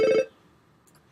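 An 8-bit style telephone ring sound effect previewed in Unity: a single short, bright electronic ringing blip, followed by near silence.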